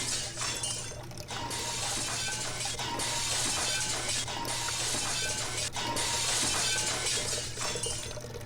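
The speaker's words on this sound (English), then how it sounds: "I hear the high-pitched noise of glass cracking." Glass tanks crack and shatter one after another in a horror visual novel, with bright crashing bursts and tinkling fragments over a steady low hum.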